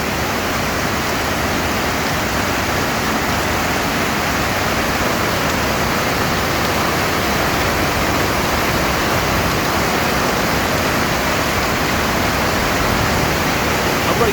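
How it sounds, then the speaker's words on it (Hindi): A powerful monsoon waterfall roars at night in a constant, dense rush of water, loud and unbroken throughout. "और रात रात में ये रौद्र रूप झरने का"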